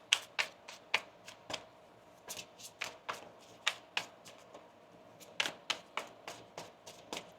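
Tarot cards being shuffled by hand, a rapid series of crisp riffling flicks and snaps in irregular bursts, close and fairly quiet with no talking.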